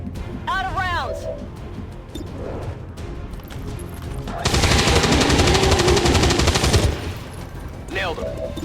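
Bursts of automatic gunfire in the video game XCOM 2, a dense, loud rattle lasting a couple of seconds, framed by chirpy electronic game sounds and a voice speaking before and after.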